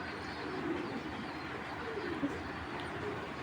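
A pigeon coos softly a few times, faint low calls against a quiet background hiss.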